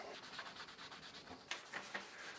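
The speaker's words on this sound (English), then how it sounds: "I try to wipe it across the grain to begin with, and then with the grain when I'm buffing it in." A cloth wiping Minwax English Chestnut 233 stain across the grain of a wooden tabletop, a faint steady rubbing with rhythmic strokes and a few brief scuffs, close and with no voices.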